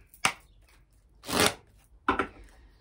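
Tao oracle cards being shuffled and drawn: three separate close, papery riffling bursts with quiet gaps between them.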